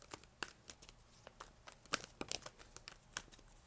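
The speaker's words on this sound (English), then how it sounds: "You hear me shuffling, right?" Tarot cards are shuffled in quick, crisp bursts of riffling and flicking, close up and fairly quiet, with short pauses between the clusters and no voice over them.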